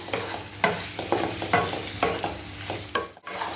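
Pieces of goat liver (kaleji) stir-fried with black pepper and kitchen king masala: loud, close scraping stirs of a spatula in a pan, rhythmic every half second over a constant sizzle, no talk.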